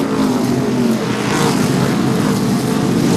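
Modified race cars from the True Value Mods field roar around the Seekonk Speedway oval in a dense, continuous wash of loud engine noise, with no gaps in the racing din.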